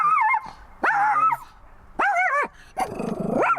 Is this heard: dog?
yes